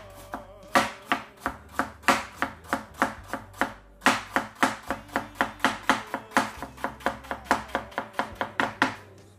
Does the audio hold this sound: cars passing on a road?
no